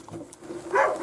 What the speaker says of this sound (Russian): начал лаять